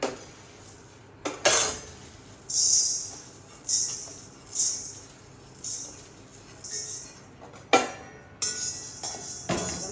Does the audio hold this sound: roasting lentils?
yes